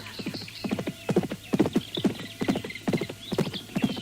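Horse hooves clip-clop steadily in a rhythmic trotting pattern, as if two riders travel a road through wild trees in an audio drama, close and continuous with a brief whinny-like tone.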